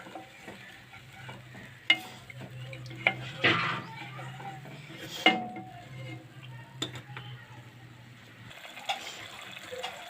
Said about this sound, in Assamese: এইখিনি মই উতলিবলৈ দিম।